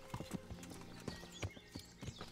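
Horse hooves clip-clopping in the medieval video game Kingdom Come: Deliverance, a quick irregular series of hoof strikes close by.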